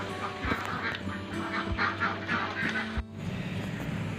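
Laying ducks on a duck egg farm quack continuously as a dense flock, overlapping calls at moderate distance over a steady rumbling background, with no clear voices.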